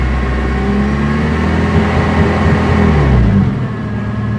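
A Honda K-series engine fitted with Skunk2 Stage 2 camshafts revs against its rev limiter, a loud sustained buzzing engine tone that holds steady and then drops off near the end, with no voices.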